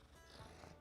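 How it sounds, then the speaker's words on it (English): A soft, low purring rumble, close and steady, with slight breathy variations and no talking. "You can hear him purring."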